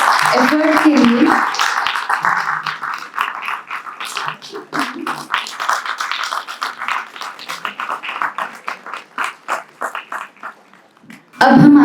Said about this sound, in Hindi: लाइक एक बार जोरदार तालियां होनी चाहिए इस एफर्ट के लिए।